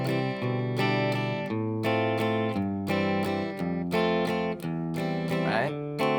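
Acoustic guitar strums a song's chord progression in steady, full chords that change every beat or two, played solo and close.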